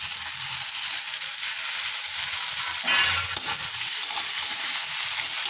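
Chopped tomatoes are tipped into lightly fried onions in a pan for a masala prawn curry, giving a continuous loud sizzle with a stirring scrape midway and no talking.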